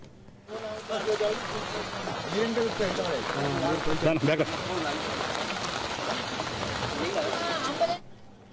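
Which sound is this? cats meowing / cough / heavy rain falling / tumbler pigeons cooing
heavy rain falling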